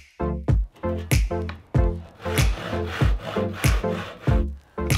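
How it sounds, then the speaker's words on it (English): A handsaw cuts through a timber dowel close up, loud, rhythmic rasping back-and-forth strokes, roughly a dozen in quick succession with no talking. "We're simply going to cut the dowel with our handsaw."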